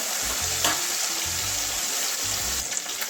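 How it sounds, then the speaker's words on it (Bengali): Katla fish pieces dusted with turmeric fry lightly in hot oil, a continuous close sizzle with bursts of low bubbling spatters at regular intervals, with no voices. "খুব বেশি ভাজা একদম লাল লাল করবো না, হালকা একটু ভেজে নিচ্ছি"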